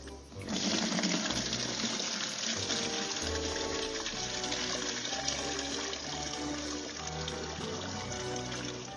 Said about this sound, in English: So I'll don my gloves and I'll pour it into this